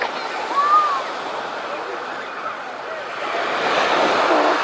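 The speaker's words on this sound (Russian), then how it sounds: "какая волна." Sea waves surge and break on a beach of small pebbles at Tuapse, a steady broadband wash rising near the end, with someone talking over it and some wind.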